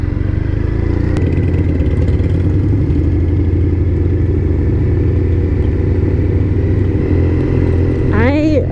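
Triumph Thruxton motorcycle engine droning steadily while riding, a loud continuous mid-pitched rumble with wind noise, and a voice talking over it near the end.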